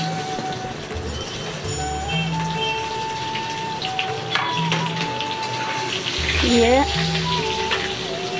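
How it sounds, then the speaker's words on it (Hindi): Sliced potatoes sizzle steadily in hot oil for aluminium-free maska aloo parwal, with a constant close frying hiss, a few brief tones and a short spoken word in between. "अब इसी तेल में हम ये आलू को डालेंगे फ्राई होने के लिए।"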